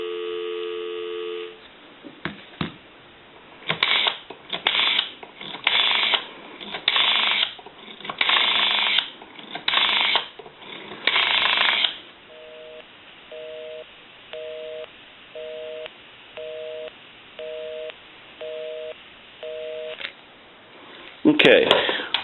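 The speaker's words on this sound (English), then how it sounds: "Give you some dial tone." A Kellogg Redbar rotary desk telephone gives a steady dial tone, then a rapid series of dialing beeps, followed by a repeating two-tone ringback pulse; a brief burst of noise at the end.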